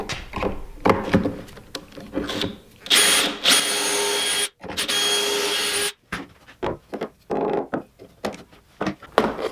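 Power drill driving pocket holes into a 2x4 held in a pocket hole jig, several loud bursts of whirring motor and bit cutting wood, separated by brief pauses and clicks of handling.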